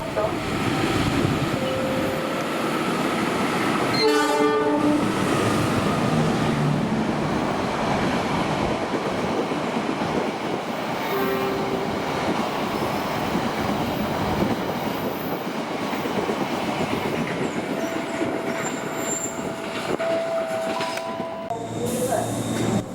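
A passenger train with a flower-decorated locomotive on its first run rolls past on an Indonesian railway, with rumbling, clattering wheels and a short horn blast early on, the noise steady throughout.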